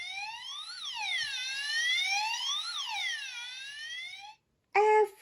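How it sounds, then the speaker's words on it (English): A police car siren sound effect sweeps up and down in a loud, repeating wail for about four seconds, then cuts off before a short, sharp burst of another tone. "He and Officer Squirrel get into the car and put on the siren."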